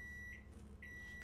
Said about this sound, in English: my chicken that I'm defrosting is done. Go stop the microwave real quick.